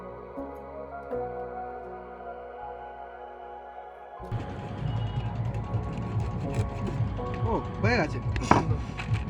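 A knife cuts through a large Sundarbans payratoli fish, producing a run of close, dense chopping and scraping strikes after a quieter opening with faint tonal hum.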